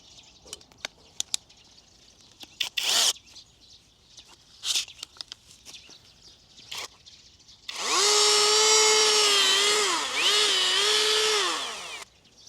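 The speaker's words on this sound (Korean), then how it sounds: "바로 이런 나선형 드릴 비트를 전동 드릴에 사용하면 됩니다" A power drill fitted with a spiral auger bit boring into garden soil to make planting holes: scattered clicks and handling knocks, then a loud sustained motor whine that briefly dips in pitch before stopping.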